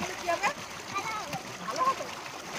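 Water splashing and sloshing as people bathe in a water tank out in a field, steady irregular splashes heard close under lively talking.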